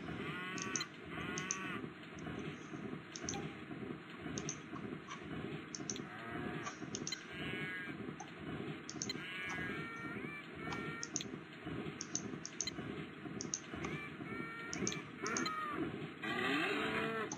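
Cows moo repeatedly in the McDonald's video game, a run of low drawn-out calls from a herd, layered with rapid mouse or keyboard clicks throughout and no talking.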